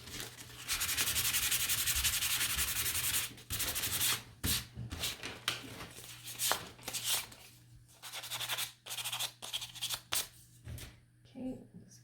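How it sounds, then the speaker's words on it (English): Sandpaper rubs back and forth over a wooden Easter bunny cutout, a steady close scratch for several seconds that breaks into shorter irregular strokes and scrapes, with a faint low hum underneath. "I forgot to sand this one, so I'm going to do that right now."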